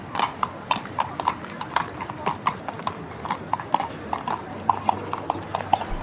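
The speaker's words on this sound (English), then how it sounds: "A horse and carriage waited for him to take him back" Horse hooves clip-clop steadily over cobblestone streets as a horse and carriage moves along, a brisk, even rhythm of sharp knocks close by with low rumbling underneath.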